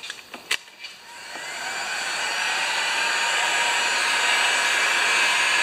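A heat gun warms the old tire of a Honda HRA214 mower, starting with a few clicks before a steady, loud airy whoosh rises and holds close by, with no talking.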